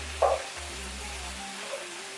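Shrimp frying in oil in a paella pan, a soft steady sizzle with a brief clack as they are flipped, plus a low hum underneath.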